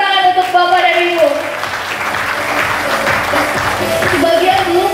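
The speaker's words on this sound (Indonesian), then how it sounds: "Tepuk tangan untuk Bapak dan Ibu" Audience applause at a hotel seminar, a steady wash of clapping from a room full of people, with a voice speaking over it and music playing underneath.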